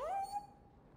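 A dog in the Dragon Age video game gives a single short whine or yip that rises then holds a steady tone before fading, fairly close and alone with no talk.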